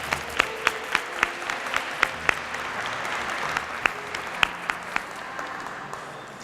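Steady applause from a crowd at a graduation ceremony, dense clapping with several sharper claps standing out, sustained throughout at moderate loudness.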